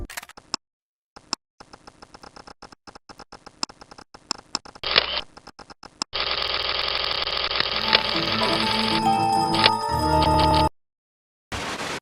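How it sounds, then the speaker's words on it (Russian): Short electronic ticks and blips sound one after another as icons in a game launcher are hovered, followed by a sustained synthetic whirring tone that cuts off abruptly, then resumes briefly. "а это звуки при наведении на значки в лаунчере"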